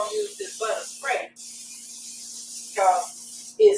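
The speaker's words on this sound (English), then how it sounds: "Now we're gonna use this butter spray" Butter cooking spray hisses from an aerosol can onto a waffle maker in a steady burst of about a second and a half, with a person talking just before and after.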